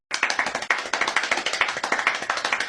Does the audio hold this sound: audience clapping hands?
yes